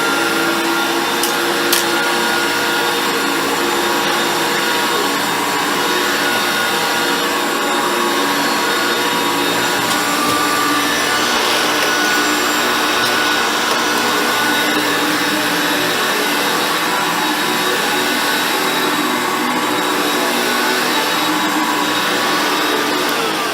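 A Dyson vacuum cleaner runs continuously at close range, a loud, steady, broadband whine and rush that holds an even level throughout with no speech.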